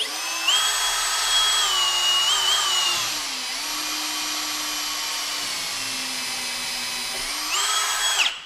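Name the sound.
drilling a pilot hole into a melamine panel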